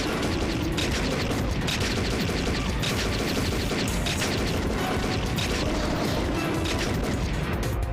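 Rapid, continuous gunfire blasting without pause during a boss fight in the arcade shooter The House of the Dead III, loud and dense with overlapping shots and booms.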